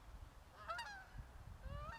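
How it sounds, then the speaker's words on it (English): A flock of geese honks overhead, faint and distant, with a few overlapping nasal calls in quick bursts over low outdoor rumble. "Oh yeah, flock of geese."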